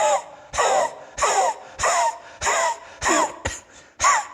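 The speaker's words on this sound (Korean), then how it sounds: "이렇게 기침하는 것도" Seven or eight forceful coughs in a steady rhythm, each a short harsh burst separated by brief pauses, close and loud with no other sound.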